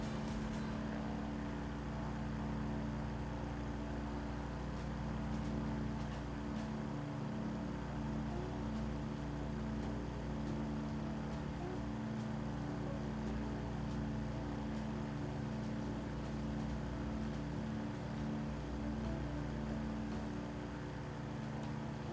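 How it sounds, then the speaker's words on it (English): Light aircraft piston engine running with its fuel mixture leaned, flying over the Aleutians near Dutch Harbor. A steady, droning cabin roar holds evenly throughout with constant low harmonic hum and no breaks. "You'll actually hear a difference in the way the engine sounds."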